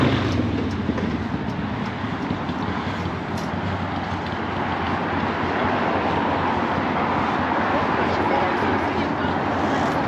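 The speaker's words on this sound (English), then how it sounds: "I'm noticing cars whizzing along here, particularly in the other direction" Cars and motorbikes whizzing along a seafront road, the Paseo Maritimo in Palma de Mallorca, as a steady broad roar of passing traffic with wind, continuous throughout under a talking voice.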